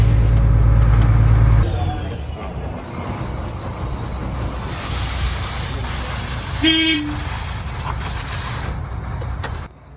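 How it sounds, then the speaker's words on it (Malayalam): A trawler's onboard horn sounds on a Kerala fishing boat at sea, signalling crew for casting or hauling the trawl net: a short, fairly loud blast over steady engine drone and background voices. "വല ഇടാനും പിടിക്കാനായിട്ടൊക്കെ ഉള്ള സിഗ്നലാണ് ഈ ഹോൺ"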